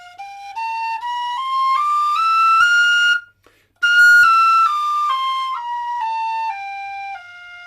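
A D tin whistle plays a major scale with G fingering that sounds in F, clear pure notes stepping up, a short silent breath, then stepping back down, loud and solo.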